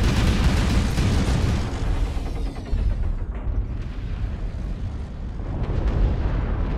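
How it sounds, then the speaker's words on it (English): Airstrike explosions in MechWarrior Online, a dense continuous barrage of heavy booms and rumbling blasts rolling on for several seconds, loud and close with no voices over it. "Oh, that was an airstrike."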